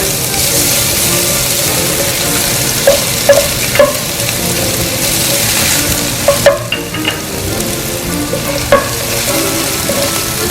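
Garlic and ginger frying in regular oil in a pan for a samosa filling, a steady loud sizzle with a few sharp pops and stirring clinks spread through it, no talking.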